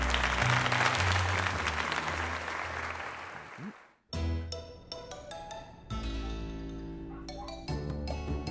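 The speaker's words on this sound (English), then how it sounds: "Let's give it another heartfelt round of applause." Loud crowd applause in Pokémon Legends Z-A fills the first four seconds, fading out before bright in-game chimes and jingles take over.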